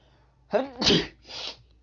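A single sneeze, close and sudden, breaking into two or three sharp bursts of breath with no talking around it.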